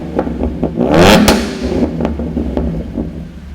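A V6 Mustang with a stainless steel Roush axle-back exhaust idles up close with a deep, throaty burble, briefly blipped into a short rev before settling back to a steady pulsing idle.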